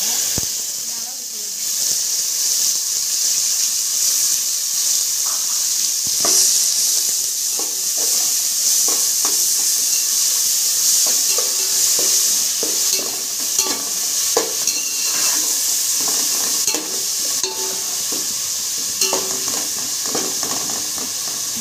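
Crushed fennel seeds and shallots fry in a pan for Tamil-style coconut rice, giving a steady sizzling hiss with scattered stirring clicks throughout, close and continuous, with no talk.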